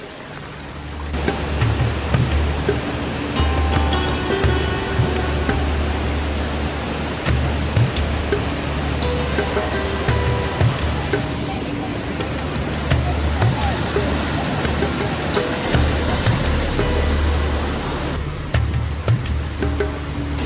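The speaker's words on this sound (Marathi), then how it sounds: "कधी कधी पाणी एवढं जोरात वाहतं ना" Water rushes loudly and steadily down a waterfall stream near the Marleshwar temple, a dense unbroken roar close at hand that drowns everything else for the whole stretch.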